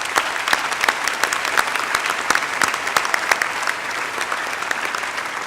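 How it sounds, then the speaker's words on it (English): Commencement ceremony audience applauding, a dense, close crowd of clapping hands with sharp individual claps standing out, steady throughout. "So please, a round of applause for your family and loved ones."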